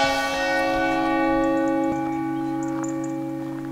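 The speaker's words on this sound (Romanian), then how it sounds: "Clopotul. Se bate." A large church bell tolls near Lake Corlo, Italy, with a rich, long-ringing hum; a second strike lands partway through as the ringing slowly fades. No voices.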